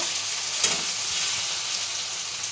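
Diced potatoes sizzle steadily in a hot pan as they brown for flattened-rice (chire) pulao, a continuous close hiss with a faint stirring knock partway through.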